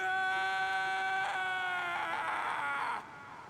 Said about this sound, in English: scream of victory.